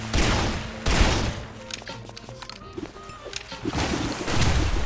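Gunfire from the video game Guns, Gore & Cannoli, loud dense bursts of shots opening and closing the stretch with scattered sharper impacts between, no talk over it.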